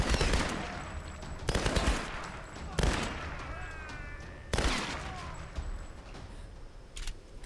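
Repeated gunshots from the Tomb Raider video game ring out as four or five loud, sharp blasts spaced a second or two apart, with echoing tails between them.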